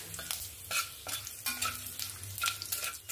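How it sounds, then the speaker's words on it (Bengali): Cumin seeds and bay leaves tempering in hot oil for a fish-head cabbage ghonto, a quiet sizzle broken by several soft scraping stirs of a spatula, close and without talk. "এবার আমি ওই তেলের মধ্যে ফোড়নে দিয়ে দেব জিরে আর তেজপাতা।"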